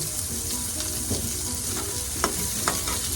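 Onion and garlic sauté in a pan for a fish sarciado, giving a steady close sizzle with a few scraping stirs of a utensil against the metal.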